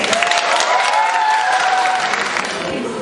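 An audience in a concert hall gives loud, dense applause as a band is welcomed onstage at a contest final, sustained and close throughout.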